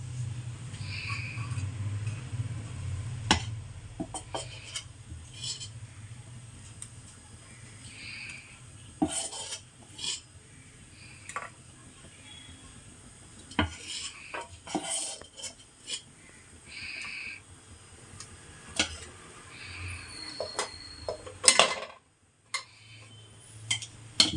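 Metal idli stand plates clinking and tapping as they are greased with oil and handled in a home kitchen, making sparse irregular clicks and light clatters, close by and fairly quiet, with no talk.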